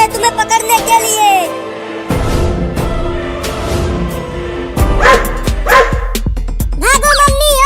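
A cartoon dog barks in several sharp, loud bursts between stretches of animated Hindi narration and music in a children's cartoon.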